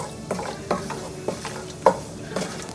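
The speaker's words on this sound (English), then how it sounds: "Always make sure you're stirring it." Cashews sauté slowly in a pan over a low flame while a spoon stirs them, giving a series of close scraping strokes about every half second over a faint, steady sizzle.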